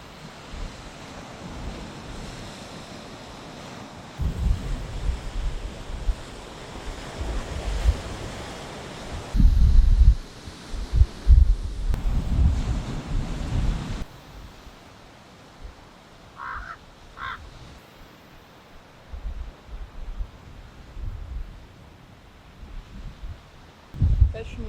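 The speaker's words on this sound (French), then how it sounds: "Le bruit, je pense, des vagues sur les rochers." Surf breaking against rocky shore near the Golden Gate in San Francisco, a rumbling, surging wash that swells in loud bursts and eases off, with gusts of wind buffeting the microphone and a brief crow-like call in the quieter stretch.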